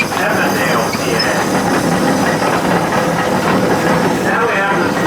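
A steam engine at a summer steam and engine show hisses in a continuous loud, dense rush of steam with mechanical rumble beneath, steady for several seconds, with faint crowd voices mixed in.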